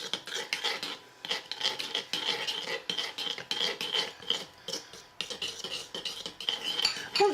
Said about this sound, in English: remove it from the heat and just stir it vigorously until the butter completely melts into the chocolate